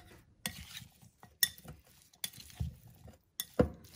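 A spoon stirs and scrapes through Nepali potato salad (aloo sadeko) in a bowl, making close, irregular clinks and soft mushy stirring strokes with brief pauses in between.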